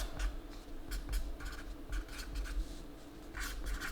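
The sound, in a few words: writing by hand with a pen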